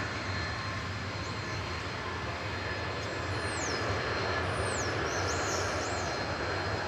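A steady, loud airplane engine roar at DFW Airport, a continuous broad rush with no talking and faint high chirps above it.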